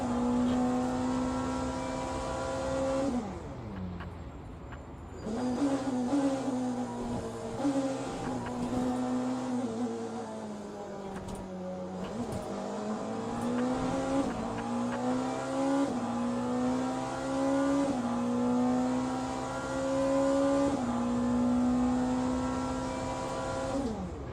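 A race car engine in the sim racing game Le Mans Ultimate drones continuously, its pitch dipping and climbing in smooth sweeps as revs shift, a steady loud mechanical hum with no voices.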